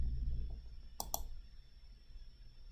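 A computer mouse clicks twice in quick succession to submit a work request in IBM Maximo, sharp close taps over a faint steady hum, with no talking.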